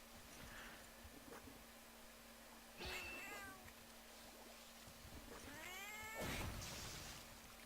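A cat meows in the video game Monster Hunter Freedom Unite: two or three short, faint meows over a steady low game hum, with no speech over them.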